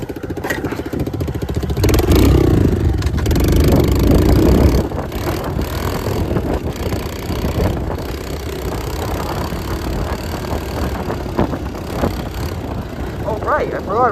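A motorcycle engine runs steadily while riding, swelling louder for a couple of seconds before settling into a constant droning hum, with someone talking intermittently over it.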